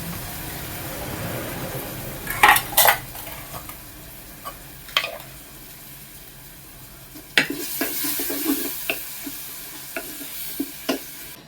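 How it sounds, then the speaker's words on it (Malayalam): Chickpeas tipped into a pan of coconut oil and coriander powder over a wood-fired stove, giving a steady frying sizzle with a few sharp clatters and scraping stirs, close by with no talk. "കടല ഇട്ട് കൊടുക്കുകയാണ്."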